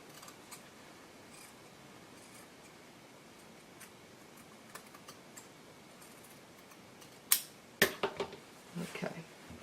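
Scissors snip through fabric for a kanzashi flower near the end, several quick close cuts after a quiet stretch with faint handling noise.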